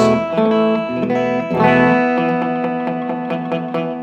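Open guitar chord strummed with some strings muted, several close, loud strums that sound dull and choked in places, ringing unevenly with no talking.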